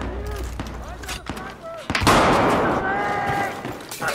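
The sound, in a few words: shotgun gunfire in Battlefield 4 video game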